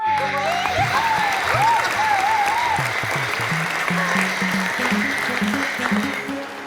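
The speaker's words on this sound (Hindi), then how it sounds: "तालियां बजा दो" Studio audience applause at a comedy show, a dense, loud, continuous clatter of clapping throughout, with a faint melodic tone and a low rhythmic beat underneath.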